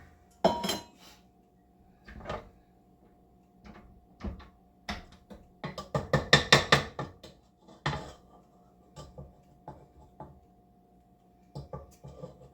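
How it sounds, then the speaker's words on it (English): Kitchen clatter while fetching a small bowl during sponge cake baking: scattered clinks and knocks of dishes and a cupboard, with a dense cluster of rattling crockery midway, fairly close and moderate, no voices. "Hang on, I'm gonna get a small bowl here."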